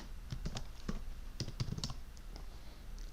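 Code being typed in C on a computer keyboard, a quick irregular run of soft key clicks close by, quiet and alone.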